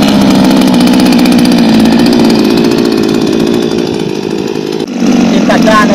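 A small two-stroke string trimmer fitted with orange Achilles trimmer line runs at a loud, steady buzzing idle close by. A brief dip near the end leads into a rev-up.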